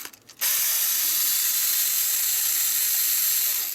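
After a brief quiet moment, a screwdriver unscrews a Star Trek Playmates TNG Type 2 toy phaser, giving a loud, close, continuous ratcheting whir that holds steady to the end.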